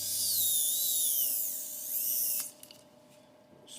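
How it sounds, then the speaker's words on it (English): A high-pitched electric driver whines loudly and steadily, rising and falling in pitch while driving screws into a Traxxas E-Maxx RC truck, then stops and a few small clicks follow. "Just gotta put all these screws in."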